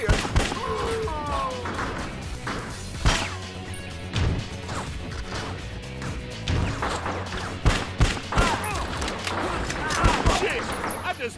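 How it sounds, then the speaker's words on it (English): Gunfire and crashing impacts in the video game Bad Boys: Miami Takedown, with sharp repeated shots and smashes scattered through the scene while characters shout and talk over the action. "That can happen when people fire their damn guns at each other!"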